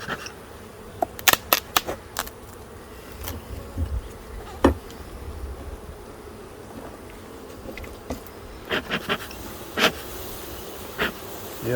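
Honey bees from an opened overwintered hive buzz in a steady close drone, with scattered louder clicks and knocks from handling the boxes.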